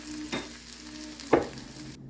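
Coriander powder, red chilli powder, turmeric and coriander leaves fry gently over a low flame for green peas masala sambar, a soft, quiet sizzle broken by two brief scrapes of stirring.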